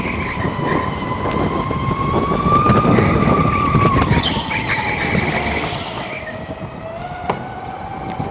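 A go-kart engine drones steadily on a track, its pitch rising and falling gently with throttle, loud and close without a break for the full length, driven by someone wearing ski boots.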